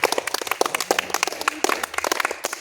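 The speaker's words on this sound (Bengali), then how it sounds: "কন্টিনিউ চলবে হাততালি" Children clapping their hands at a karate coaching camp, a rapid, uneven patter of many small claps close by, continuing steadily with brief pauses and no talking.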